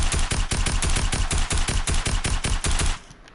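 Rapid automatic weapon fire from the shooter game Black Ops 4: a tight, evenly spaced stream of loud, close shots that runs for about three seconds and then cuts off, with no voices.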